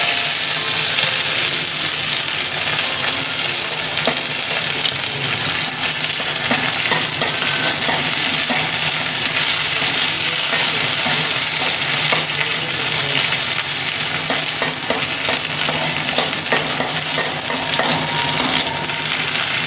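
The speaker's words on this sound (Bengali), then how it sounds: "তেলটার মধ্যে এটা একটু ভাজা নেব" Dried fish frying in hot oil in a home kitchen while being stirred, a steady dense sizzle running throughout with utensil scraping, close and alone with no talk.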